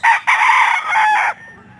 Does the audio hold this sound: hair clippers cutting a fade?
no